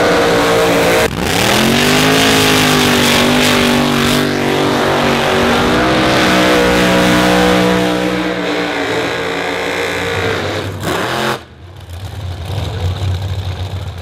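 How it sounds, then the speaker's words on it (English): A gasser-style drag car with its front end raised does a burnout, its engine revving hard and loud with rising and falling pitch, then dropping off sharply before the roar picks back up. "And the burnouts are just part of the show."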